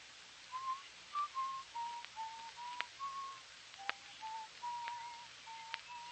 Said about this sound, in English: That noise. I'm whistling.